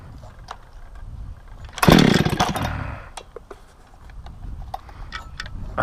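A Husqvarna 288 chainsaw fitted with full-comp semi-chisel chain milling a 10-foot tulip poplar cant: a loud, close burst of engine roar that swells for about a second, then drops back to a quieter idling rattle with scattered ticks.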